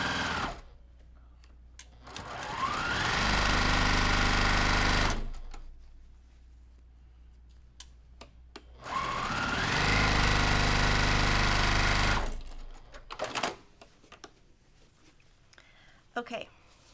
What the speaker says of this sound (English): I try not to stitch over my pins.